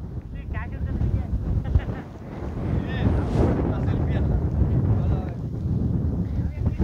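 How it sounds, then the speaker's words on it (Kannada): Strong wind buffeting on Baba Budangiri hilltop in Karnataka, a loud continuous rumbling roar across the microphone with a voice heard faintly over it. "ಗಾಳಿ ತೂರ್ಕೊಬಿಟ್ಟೇಕಲ್ಲ."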